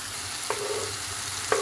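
Mushrooms frying in a pan with black pepper, a dense continuous sizzle close up, with two brief scrapes of stirring breaking through the steady hiss.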